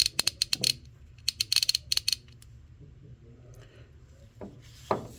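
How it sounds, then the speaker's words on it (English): A Koken Japan 3/8 low tooth count ratchet, model 30150, clicking in two quick close bursts of crisp pawl clicks, followed by quieter handling noises and a faint creak. "Seems like it's a pretty decent little ratchet, especially if you want a low tooth count 3/8"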